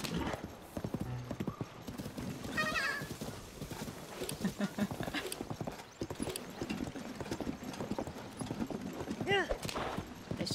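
Horse hooves trot in a Zelda video game, a quick rhythmic clip-clop running steadily under frequent talking, with a brief whinny-like call near the end.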